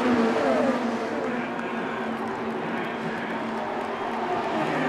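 IndyCar race cars on the final lap of the Indianapolis 500, a continuous roar of high-revving engines heard at a distance, starting slightly louder then holding steady with no clear pass-by.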